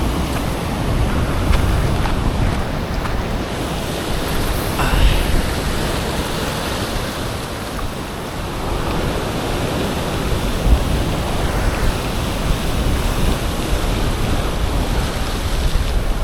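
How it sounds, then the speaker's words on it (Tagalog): Strong sea current and waves surge continuously around an island fishing spot, a loud, dense wash of water and wind noise with no clear speech. "Medyo lumalakas yung agos eh."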